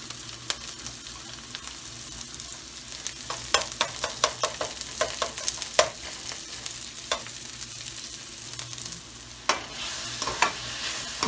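Garlic and onions fry in oil with a moderate crackling sizzle, while frequent clicks and scrapes of a spoon stir the pan in an uneven rhythm.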